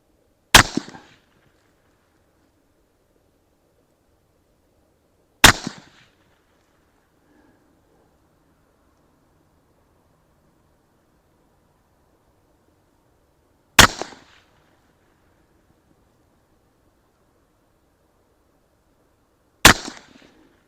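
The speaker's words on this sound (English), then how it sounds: "let's shoot another 5-shot group." Four sharp, loud gunshots from a Ruger LC Charger pistol chambered in 5.7x28, fired slowly at uneven intervals outdoors, each one a crisp crack with a short decay and long silence between.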